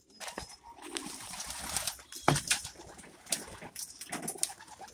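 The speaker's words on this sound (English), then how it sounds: "I have some birds trying to come in" White doves coo and flutter close by around a loft, with soft wingbeats and scattered calls over a busy background, some louder bursts around the middle.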